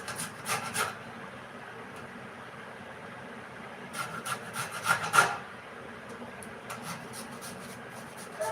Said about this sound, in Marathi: अशी कैरी आहे ना आपण किसून घ्यायची